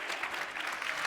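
An audience at a live talk event bursts into brief, brisk applause, a continuous crowd of hands clapping at moderate volume with no speech over it.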